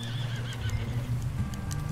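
A horse in the Red Dead Redemption 2 video game whinnies with wavering high cries over steady clip-clop hoofbeats, fairly quiet and continuous with no talking.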